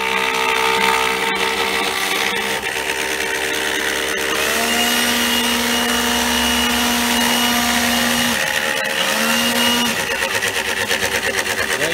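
A CNC router spindle on a 4x8 machine cuts material and throws chunks instead of sawdust, giving a loud, steady, continuous whine and grind with a sustained tone that drops out briefly partway through.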